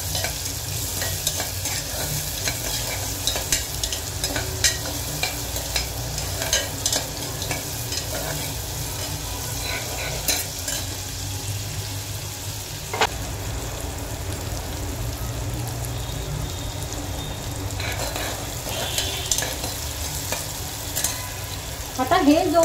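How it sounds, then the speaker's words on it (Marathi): Onion and curry leaves sautéing in a pan, a steady close sizzle with scraping stirs throughout, broken by a few sharper clinks, with no voices. "कढीपत्ता, व्यवस्थित तिथे परतून घ्यायचं."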